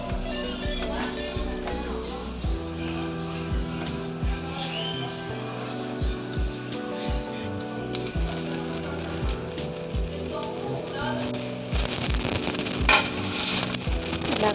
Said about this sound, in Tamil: நல்லா இதை லைட்டாக கருவை வறுப்போம்.